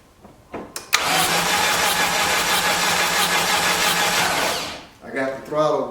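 A 1989 Dodge Daytona ES engine cranks steadily on the starter during a compression test with the throttle wide open, a loud continuous whirring drone for about four seconds after a few clicks, followed by a voice.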